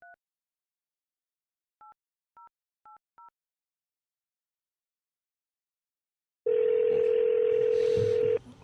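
A telephone call being placed: a few short touch-tone dialing beeps spaced apart, followed after a pause by a loud steady dial or ringback tone lasting about two seconds, with no talking.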